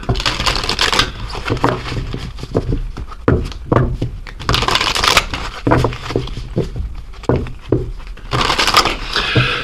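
Oracle cards being shuffled by hand, close and clear, in repeated bursts of riffling and slapping with short pauses between them.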